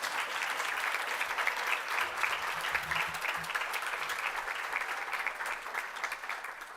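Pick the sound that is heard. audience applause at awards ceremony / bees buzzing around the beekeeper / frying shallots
audience applause at awards ceremony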